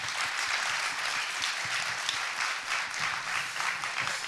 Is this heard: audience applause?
yes